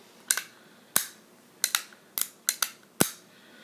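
A revolver's trigger is pulled and its cylinder turns, giving a series of sharp, close mechanical clicks that mostly come in quick pairs, spaced irregularly over a quiet background.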